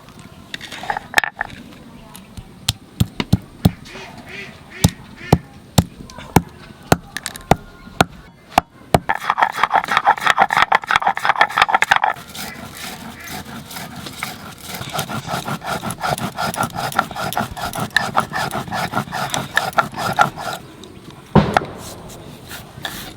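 Roasted spices for a Bengali mutton curry are pounded and crushed, giving loud repeated thuds and knocks in uneven bursts, followed by a stretch of steady grinding rub, while people talk in the background.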